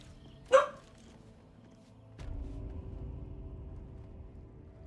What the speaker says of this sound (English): What are you barking at?